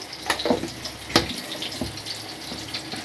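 Thick fish curry bubbles in a pot, with irregular pops and splutters over a soft simmering hiss.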